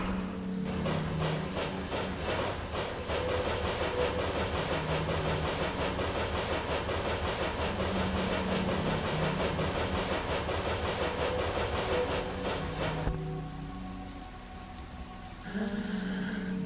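A game train from OFF runs through Zone 1 with a steady rhythmic chugging and rattling under a repeating low musical loop, continuous and fairly loud before thinning out near the end, with no one speaking.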